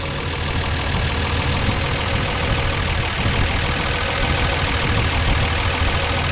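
A Datsun 280Z with electronic fuel injection idles steadily, a continuous low engine drone with a faint mechanical knock running throughout at an even level.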